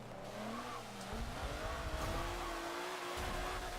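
Honda Odyssey minivan racing in Forza Motorsport 7, a steady engine drone with shifting pitch and tire noise running continuously and fairly loud throughout.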